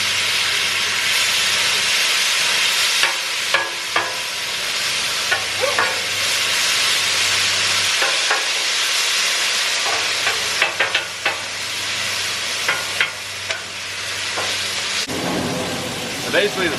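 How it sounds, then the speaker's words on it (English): Potatoes sizzle and hiss as they sauté on a Blackstone griddle outdoors, a loud, continuous frying crackle with occasional scraping clicks from a spatula throughout. "Potatoes are sauteing up."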